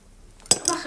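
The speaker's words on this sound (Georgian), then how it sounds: "ეხლა უნდა ჩავყოთ ჩანგალი," A fork pushed into an egg that holds a battery gives one sharp metallic clink, then a softer second clink and a brief rattle, close and short.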